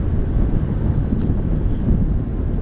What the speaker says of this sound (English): we got some gusty winds going on here